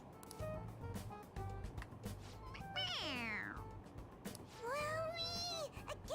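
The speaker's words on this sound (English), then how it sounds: "It's a stuffed animal. Yeah, it's just a toy. It meows when you press on its head." Stuffed toy cat in Persona 5 Royal meowing when pressed on its head: two drawn-out, falling electronic meows, clear and prominent over a steady game background.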